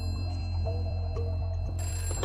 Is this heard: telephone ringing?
yes